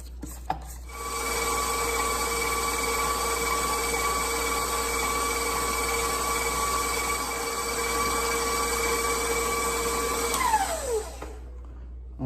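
An electric mixer whips cake batter in a bowl with a loud, steady motor whine that holds evenly, then drops in pitch and winds down near the end.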